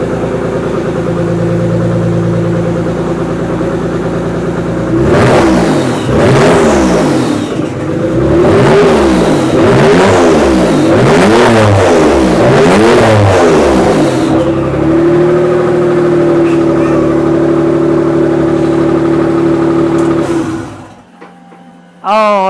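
A Ford Anglia engine with no exhausts fitted catches after long cranking, then revs hard in repeated rising and falling bursts before easing to a rough idle and cutting off, loud and close.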